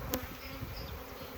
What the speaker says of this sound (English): Just a couple of bees in the air.